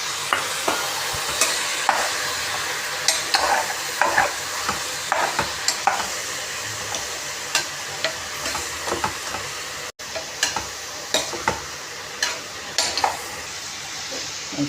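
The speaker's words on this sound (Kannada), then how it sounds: "ಸೋಯಾಬೀನ್ ಕೂಡ ಎಣ್ಣೆಲಿ ಸ್ವಲ್ಪ ಫ್ರೈ ಆಗಿದೆ." Soybeans frying in oil in a pan on the stove, with a continuous sizzle broken by frequent sharp scrapes and taps of a spoon stirring, close and steady with no talking.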